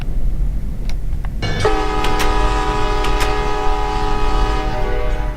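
Train in a video game arriving at Moon River Town, its long steady horn blast sounding loud and close over the continuous rumble of the moving train.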